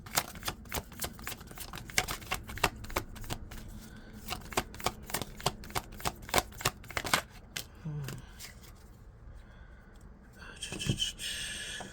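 Tarot cards shuffled and cut for a reading: a steady run of crisp, close card riffles and taps, rhythmic for several seconds, then slowing to a few scattered flicks and a brief rustle near the end.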